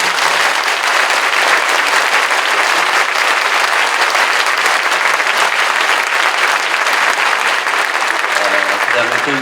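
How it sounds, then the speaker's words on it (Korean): Large church congregation at a Korean commemorative worship service giving a big round of applause to welcome the prime minister, loud sustained clapping from many hands with voices mixed in beneath. "큰 박수로."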